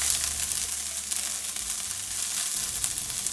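Charred corn kernels spread in a single layer in a pan sizzle with a steady, bright frying hiss and faint crackle, close and continuous throughout.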